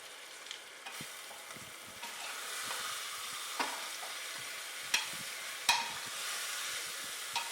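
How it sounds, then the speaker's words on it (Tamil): Mutton being sautéed in a pan with onion and tomato, a soft steady sizzle broken by occasional sharp scraping stirs and clinks, fairly quiet and without talk. "எடுத்து வச்சிருக்க மட்டனையும் இதோடு சேர்த்துக்கோங்க. அதையும் நல்லா வதக்கி விடுங்க."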